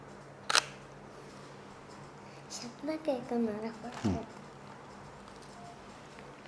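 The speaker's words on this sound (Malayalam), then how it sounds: "ഒരു ഫോട്ടോ നമുക്ക് എടുത്ത് നോക്കാം" A Sony a7III camera fires its shutter with one crisp click, followed by faint mechanical handling sounds and murmured voices nearby in a quiet room.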